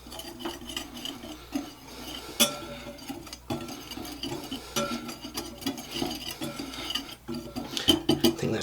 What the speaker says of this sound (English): We're going to whisk this together here quick.